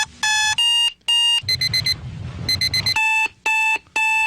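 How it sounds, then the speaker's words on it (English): An alarm clock rings in repeated bursts of loud, piercing beeps with short gaps between them, close and dominant, with a stretch of rapid chirping in the middle. "despise the sound of our alarm clock"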